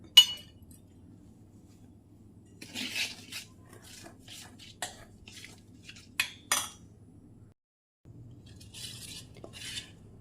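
Rice flour batter mixed with water, turmeric and salt is stirred in a bowl, with intermittent clinks and scrapes of a spoon against the dish over a faint steady hum.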